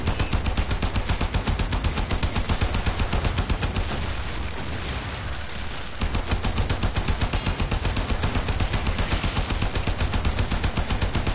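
Sustained rapid automatic gunfire from a Warframe player pouring rounds into a Frost Spectre enemy, loud and dense with a short lull midway before the rapid bursts resume.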